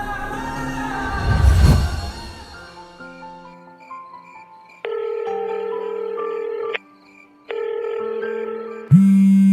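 An electronic phone in a home drama setting sounds a few short tones, then two long, steady ringing bursts separated by a brief gap, following a muffled knock at the start.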